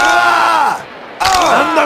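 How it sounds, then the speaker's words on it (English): A wrestling arena crowd in WWF Attitude cheering and roaring loudly in two close, swelling waves with a brief dip between, while a voice shouts over the noise. "This crowd is pumped up!"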